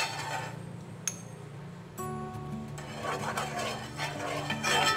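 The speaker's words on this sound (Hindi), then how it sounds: "पैन को हम एक बार ग्रीस कर लेंगे इस तरह से" A pan being greased with refined oil while making aloo tikki, heard as light clinks and scrapes of a utensil against the metal, with soft background music running underneath.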